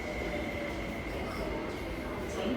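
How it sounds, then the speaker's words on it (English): A metro train rumbles steadily past Sha Tin Wai Station with a faint high wheel squeal, continuous and fairly close. "Rush hour train."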